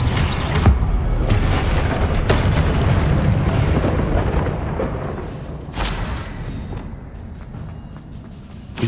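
An Incendio fire spell cast in the video game Hogwarts Legacy, heard as a dense, roaring, rumbling burst of flame and impact noise that goes on steadily amid other battle effects.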